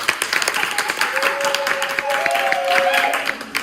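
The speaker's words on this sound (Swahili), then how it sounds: "Chapia Bwana makofi na vigelegele" A church congregation claps continuously while high, warbling ululation cries ring out over the crowd, with a voice briefly audible beneath the dense, lively applause.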